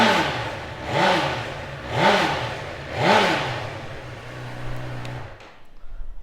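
A 2018 Honda CB1000R ABS Plus motorcycle engine blipped three times in even rhythm, each rev swelling and falling back, then settling into a steady idle before cutting off.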